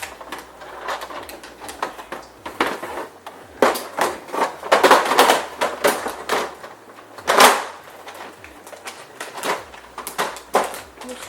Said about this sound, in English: And now to put this drawer back in there.